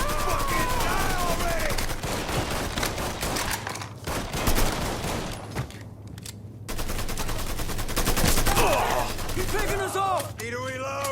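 Heavy gunfire in a Mafia III firefight: rapid bursts and overlapping shots, loud and dense, with a short gap midway, under shouted voices and game dialogue.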